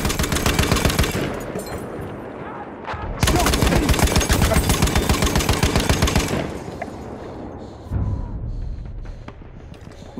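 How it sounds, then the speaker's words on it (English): Rapid machine gun fire in the World War I shooter Battlefield 1, loud sustained bursts with a short pause around the middle, then a quieter rattling stretch with another burst near the end. "Enemy machine gun!"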